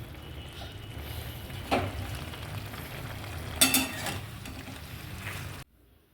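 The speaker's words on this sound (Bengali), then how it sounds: "তরকারি চচ্চড়ি করছি।" Vegetable chorchori cooking in a pan, with a steady close sizzle and frying hiss throughout, two brief louder bursts of stirring or scraping, before the sound cuts out near the end.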